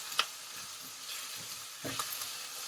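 Cut-up mushrooms added to a pan of softened, translucent vegetables, giving a steady low sizzle with a couple of sharper spatters near the start and around the two-second mark, close and fairly quiet.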